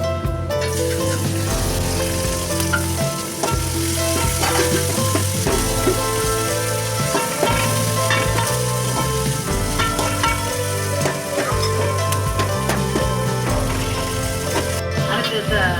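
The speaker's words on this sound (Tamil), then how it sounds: "தக்காளியை ஒரு பச்சை மிளகா போட்டு வதக்கணும்." Tomatoes and green chilli sauté in a pan with a loud, continuous sizzle. Stirring and scraping sounds run throughout, with a faint tonal background underneath.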